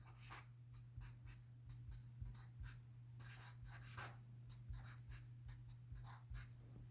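A pen writes an equation by hand on paper, with quiet, close scratching strokes that come in short bursts and pauses over a faint steady hum, with no talking.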